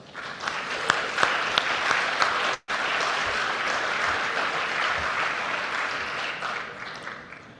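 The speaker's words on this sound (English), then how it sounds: "Can we give them a round of applause?" Audience applause at a startup founders' awards event, dense sustained clapping from a large room, loud and continuous apart from a brief cut, with a few sharper claps standing out.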